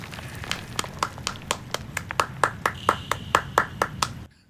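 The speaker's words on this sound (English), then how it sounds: "Ulterion started clapping" A single pair of hands claps about eighteen times in a steady, fairly quick rhythm, crisp and close, then stops abruptly.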